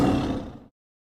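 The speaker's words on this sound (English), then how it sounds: "T for tiger." A single deep tiger roar, loud and close, rumbling for well under a second before cutting off into silence, with no talking.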